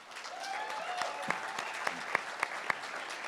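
Audience applause at a governor candidates' debate: steady clapping from a crowd fills the clip, with a few sharper, louder claps standing out near the end. No one speaks.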